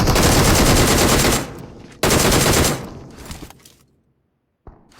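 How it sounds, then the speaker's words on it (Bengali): Gunfire in a video game battle royale match: two long, loud bursts of rapid automatic fire, each cutting off abruptly, followed by a short silence and a brief sharp sound at the end. "আমি ফায়ার বাটন করব"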